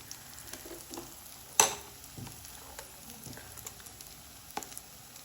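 A hot griddle greased with oil or ghee gives off a quiet, steady sizzle and crackle, broken by one sharp knock near the start and a few faint pops and clicks.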